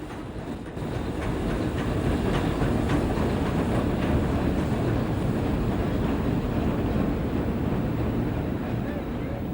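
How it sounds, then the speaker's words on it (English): A steam train departing Rosebery for Burnie in Tasmania rumbles continuously up close, heavy low roar and rattling wheels sustained throughout, with no clear whistle or chuffing standing out. "the train leaves Rosebery for Burnie"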